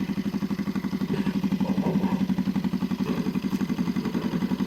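A motorcycle engine, idle for three weeks, runs with a steady, rapid thumping idle close by, its even pulsing beat continuing throughout with light mechanical clatter.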